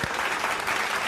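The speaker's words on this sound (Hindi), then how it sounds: "सो उनके ऐसे मेहनत के लिए थोड़ा सा तालियां।" Audience clapping for a young girl's drawing, a brief, soft, steady patter of applause with no talking.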